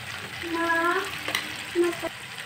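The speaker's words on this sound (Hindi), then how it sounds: "अच्छा भी चीज़ों को हम अच्छे से फ्राई कर लेंगे" Spices and tomatoes for an aloo sabzi fry in a pan, giving a loud, close sizzle that swells and fades while stirring adds brief scraping bursts.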